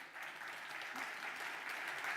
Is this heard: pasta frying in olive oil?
no